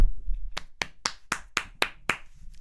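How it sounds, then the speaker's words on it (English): One person claps by hand about seven times in an even rhythm, sharp and close, with a low hum underneath. "I'll let you clap first for Maddison."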